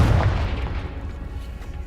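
A Confringo fire spell in Hogwarts Legacy lands with a heavy, rumbling boom that opens loud and then trails off into a sustained low roar and crackle over about two seconds.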